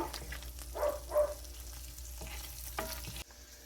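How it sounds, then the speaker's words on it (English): An egg frying in a pan gives a soft, steady sizzle, with a few louder bursts of crackle near the start before it settles back to a low background hiss. "Over here we have my egg cooking"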